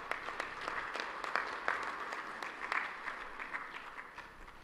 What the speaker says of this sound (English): May I please request that we have 2 rounds of applause for our co-chairpersons